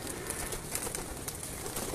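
Soft pigeon coos repeat over a busy rustling background, close by, with no talking.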